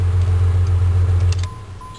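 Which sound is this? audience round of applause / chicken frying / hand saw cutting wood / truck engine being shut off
truck engine being shut off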